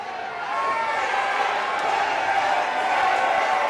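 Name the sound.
wrestling crowd cheering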